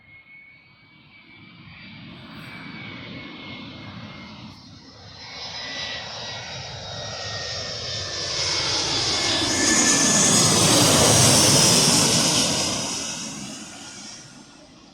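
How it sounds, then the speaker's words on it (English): An Airbus A320 passes while coming in to land, its jet engine roar swelling steadily from faint to a loud, close whine and rumble, then easing slightly as it goes by, with no voices. "we've also got another plane about to land. Okay, it's going to be another Airbus A320s type plane."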